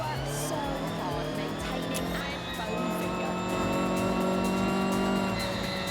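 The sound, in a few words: truck four-cylinder engine driving in video game Forza Horizon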